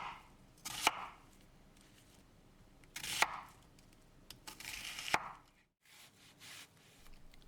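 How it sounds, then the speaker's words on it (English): Knife chopping mushrooms and onions on a cutting board, a few separate sharp chopping strikes and short bursts of quick cuts, close and fairly quiet, with brief pauses between. "The mushrooms and onions can be quickly cut for the blender."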